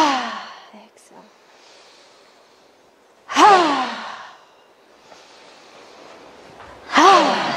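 Deep breathing during a beginner qigong exercise: slow, audible exhalations and inhalations at close range, with spoken cues between breaths and quiet pauses.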